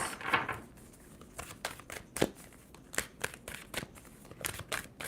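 A tarot deck is shuffled by hand in a quiet room, a series of soft, crisp riffling and slapping card sounds in irregular bursts, close and fairly faint.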